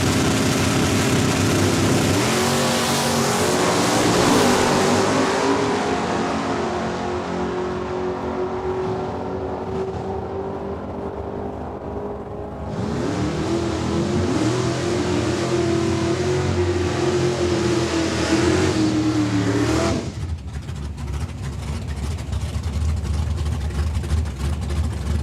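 A Plymouth Barracuda drag car at Saskatchewan International Raceway, its engine roaring loudly in long sustained pulls with rising pitch, easing briefly in between before a second hard run and a cut-off near the end.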